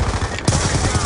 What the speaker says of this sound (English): we got one random using a fucking LMG on our spawn